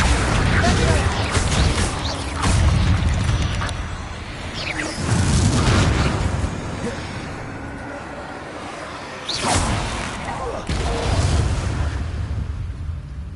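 Bombarda blast spells from Hogwarts Legacy burst out as several loud, booming explosions spread across the span, each a broad rumbling hit that decays slowly, with voices talking underneath.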